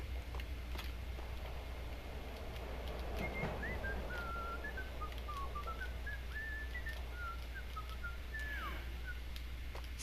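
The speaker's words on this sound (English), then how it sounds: "Somebody whistling." In the Max Payne video game, a figure whistles a slow, wandering tune in short phrases over a low steady background hum, moderately distant and faint.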